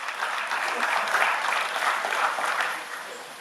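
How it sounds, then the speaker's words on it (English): Audience applause at a job fair gathering, a dense burst of clapping that swells and then fades over a few seconds. "Can we have a round of applause for my former boss,"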